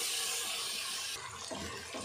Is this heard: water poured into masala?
yes